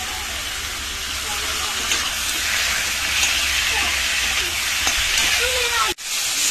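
Chicken and potatoes sizzling in spice masala in a home kitchen pot, a steady broadband frying hiss with soft stirring scrapes throughout, close and moderately loud, briefly cut near the end.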